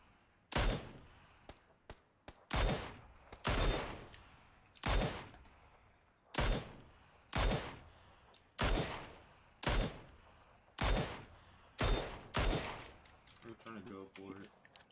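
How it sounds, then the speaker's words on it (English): Enemy gunfire in the video game PUBG, a steady series of about a dozen loud, single gunshots spaced roughly a second apart, each with a short decaying tail, heard close and alone. "He's shooting at me."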